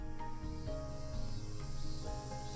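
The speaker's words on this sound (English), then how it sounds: "The sounds of cicadas in the background." Cicadas chirping in a summer scene of a visual novel video game, a steady, quiet trilling drone with overlapping tonal buzzes and no talk.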